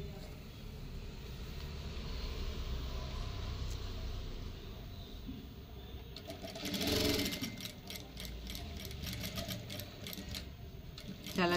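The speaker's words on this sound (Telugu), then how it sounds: "अब इसके चारों किनारे पे सिलाई करनी है." A sewing machine stitches around the edge of a half collar on canvas in a low whirring run with brief faster bursts partway through, while someone talks over it.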